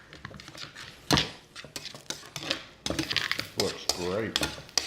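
A spoon works through cooked pasta and tomatoes in a bowl for a pasta salad, giving irregular scrapes, clinks and soft wet squelches at close range.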